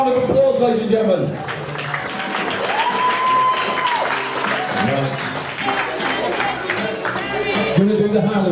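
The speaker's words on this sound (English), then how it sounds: "Give another big round of applause," Wedding guests applaud together in a lively, sustained round of clapping that fills the room, mixed with a voice talking over the crowd.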